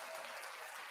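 A short burst of applause plays on a podcast as a sound effect, a steady crowd clapping for about one second and fairly quiet.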